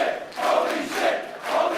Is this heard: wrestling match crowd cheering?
yes